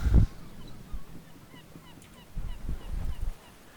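Nesting seabirds on small, barren rocky islands with a few trees honk faintly and intermittently in the distance, broken by a few low thumps and rumbles.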